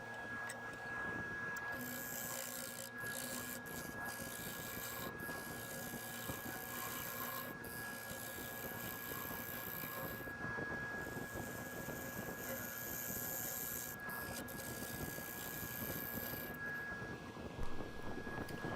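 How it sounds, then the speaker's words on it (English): Carbide wood-turning tool hollowing behind the undercut rim of a Bradford pear bowl on a lathe, a continuous close scraping rasp over a steady motor whine, with brief pauses where the cut lifts. "when it comes to hollowing, like I'm doing now behind the rim, the carbide tools really are the go-to tool for that"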